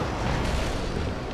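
A Confringo fire spell in the video game Hogwarts Legacy erupts as a dense, roaring explosive burst, sustained and rumbling for just over a second.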